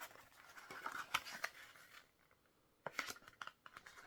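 Paper being folded by hand while making a pocket-sized photo holder, with crisp creasing and crackling bursts in two clusters separated by a quiet gap, close and fairly soft, no talk.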